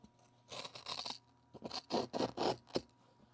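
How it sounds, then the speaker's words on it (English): A sharp blade slices through a carpet runner during stair installation, producing a run of close, dry scraping bursts, slow at first and then quicker, with no talk. "I'm going to cut this with a nice sharp blade"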